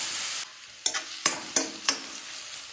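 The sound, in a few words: grated carrot being stirred and sautéed in pan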